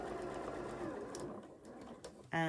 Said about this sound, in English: So I'm going back to my normal stitch length, and I'm stitching on the crease.